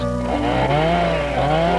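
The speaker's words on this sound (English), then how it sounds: "the roar of loggers' chainsaws" A loggers' chainsaw roars steadily in a forest, its engine pitch wavering as it revs, loud and close for under two seconds with no voices.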